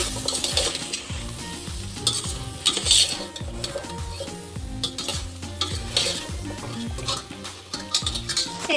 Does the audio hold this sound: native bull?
no